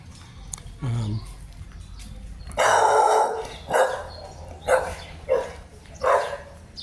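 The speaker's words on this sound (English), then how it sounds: "Sorry about my neighbor's dog there. He's got a pit bull." A neighbour's pit bull barks several times in short bursts, fairly close and loud, following some quieter speech and background sounds earlier on.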